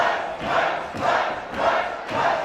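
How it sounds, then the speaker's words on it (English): A wrestling arena crowd cheers loudly in swelling, rhythmic waves, roaring up and dipping about every half second in what sounds like a unison chant. "The crowd firmly behind Rook"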